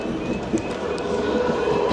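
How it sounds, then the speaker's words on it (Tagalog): A train in Kaohsiung, Taiwan, gives a continuous rumbling roll with light clattering and rushing noise, close and fairly loud throughout. "try natin picturean yung train."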